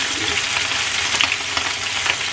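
Grouper fish frying in hot oil with shallots and garlic added alongside, a steady loud sizzle with crackling bursts and no voices.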